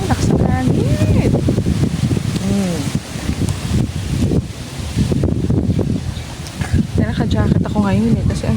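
Strong cold wind in a countryside yard roars in low, continuous gusts against the microphone, with leaves rustling while someone speaks throughout.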